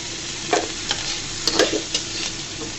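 Shrimp fry in a pot for a taro leaf mash, a steady sizzle broken by several sharp scraping stirs of a spatula, close and clear with no talk.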